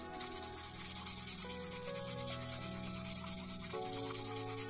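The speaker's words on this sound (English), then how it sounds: "with a buffer, I'm going to buff over this now to remove" A nail buffer is rubbed over an extreme acrylic fingernail during an infill, producing a steady, close, soft scratchy rasping with rhythmic back-and-forth strokes and a faint background hum.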